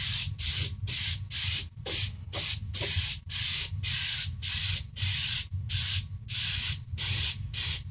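An airbrush sprays silver stain onto hardened leather in short, rhythmic hissing bursts, about a dozen close-up blasts separated by brief pauses, over a low steady hum.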